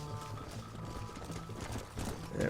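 Horse hooves galloping in the video game Red Dead Redemption, a steady rapid clip-clop running throughout under a busy game soundscape, rising slightly near the end.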